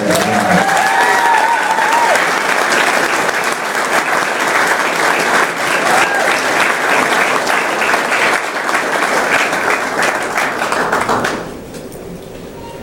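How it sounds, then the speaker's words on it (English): A large crowd applauds loudly and steadily for about eleven seconds at a university hall of fame induction, then the clapping drops off abruptly to a quieter murmur. "Let's hear it for Todd Cetnar."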